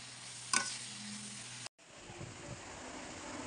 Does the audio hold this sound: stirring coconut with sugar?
yes